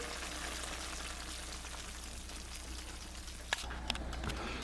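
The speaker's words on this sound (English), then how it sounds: "I'll just let this simmer" Collard greens, red cabbage and chicken simmering in a pot give a steady, even hiss of gentle sizzling and bubbling, with a couple of faint clicks near the end.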